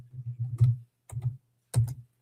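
Typing on a bent, twisting computer keyboard, with three short bursts of close, soft key clicks separated by brief pauses and no speech.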